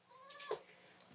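A cat gives a short, faint meow, a single brief call heard close in a quiet room.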